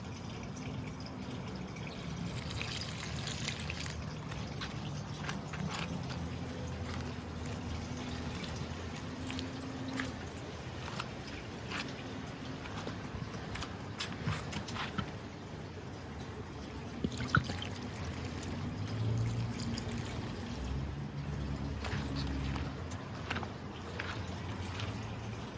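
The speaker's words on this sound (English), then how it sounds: "now let's give it a good water." Water poured steadily over a freshly repotted Monstera deliciosa with a moss pole, a continuous close trickling wash that holds at a fairly even level throughout, with no talking.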